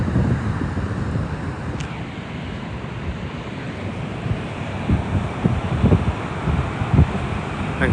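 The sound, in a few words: wind blowing at Fig Tree Bay beach, Cyprus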